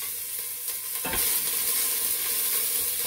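Onion and garlic drop into hot olive oil in a pan, and the sizzle jumps loudly about a second in. A continuous bright frying hiss follows, with stirring scrapes close by.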